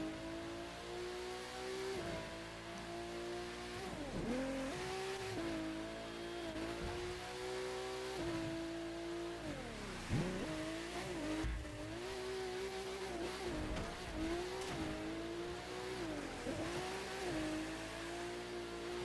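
A Porsche 911 GT3 RS limited edition in The Crew 2 revs hard and climbs through gears, dipping at each shift before surging again, a steady sustained engine note with no voices.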